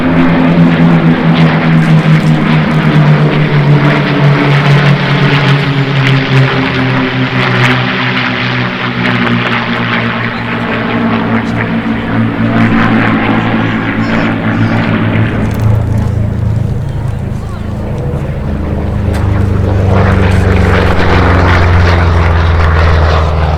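Two propeller aircraft roll down the runway at the Sywell airshow, their engines droning loudly and steadily with a pitch shift partway through as they accelerate, with no talk over it.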